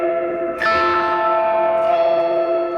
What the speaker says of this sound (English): once you start throwing chords at it, it sometimes gets this weird digital artifact